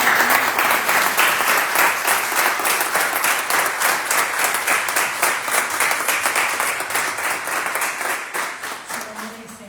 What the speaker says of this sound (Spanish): Vamos a darle ese aplauso que no le dimos.